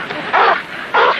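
Dogs out on a night walk give two sharp, loud barks about half a second apart, close by, with no talk in between.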